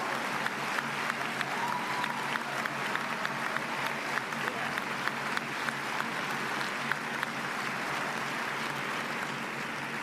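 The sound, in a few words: applause in a video game ending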